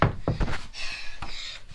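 A locked room door is rattled and knocked on, giving a few sharp, close knocks and thumps in quick succession, then quieter handle noise.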